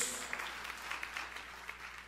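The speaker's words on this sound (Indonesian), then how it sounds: "tepuk tangan yang paling meriah buat Yesus" A church congregation applauds for Jesus during a sermon, a moderate, fairly distant burst of clapping with scattered sharper claps that fades slightly toward the end.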